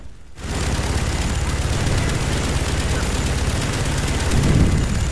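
Dense, continuous gunfire in Call of Duty: Black Ops zombies mode, a sustained loud barrage of rapid shots with low booms running through the whole stretch after a brief quiet start.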